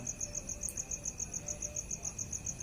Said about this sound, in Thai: ฟังเสียงจิ้งหรีด